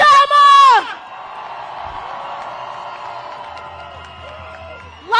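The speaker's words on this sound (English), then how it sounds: "Let's hear one more round of applause for Sarah Jama!" A loud crowd at a protest march in Ottawa whoops and yells, then a sustained roar of cheering and clapping continues before another shout rises at the end.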